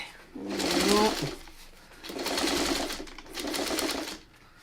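A sewing machine stitches a New York Beauty quilt block in three close, steady bursts of whirring, separated by short pauses.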